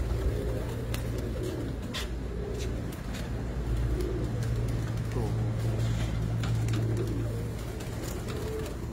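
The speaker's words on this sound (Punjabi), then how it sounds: "ਕਬੂਤਰੀ ਆਈ ਹੁਣ ਮੇਰੇ ਆ ਕੇ ਜੀ" A pigeon hen's soft, repeated cooing rises and falls through a constant noisy background, with a faint hum like passing traffic and muffled talk mixed in.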